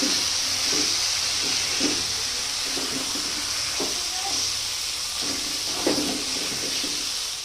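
Mutton curry sizzles as it is sautéed in oil in a pot, a steady close hiss with scattered soft pops and spatters throughout.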